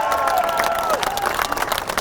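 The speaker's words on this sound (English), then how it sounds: "Y'all give me some more claps." A crowd at a Second Amendment rally claps and applauds in a dense, continuous patter, loud and close, with a few cheers mixed in.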